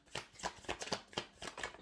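Tarot cards shuffled in quick repeated riffling bursts, about six crisp papery flurries in under two seconds, close and fairly quiet with no talking.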